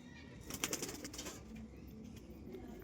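Pigeons cooing softly at a home coop, a faint low murmur of calls with a few brief higher bursts, quiet and fairly close.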